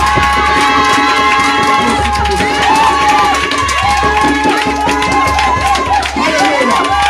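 A church congregation cheers and acclaims loudly, a dense crowd roar of shouts and high voices carrying throughout, with scattered clapping mixed in.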